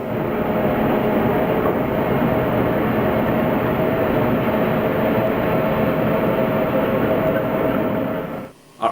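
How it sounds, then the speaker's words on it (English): Diesel-electric mule locomotives tow a cruise ship into the Panama Canal locks, a steady loud rumble with rail-like clatter and a faint tonal hum that holds for about eight seconds before cutting off abruptly. "Our entry into the locks was assisted by 8 diesel-electric locomotives called mules"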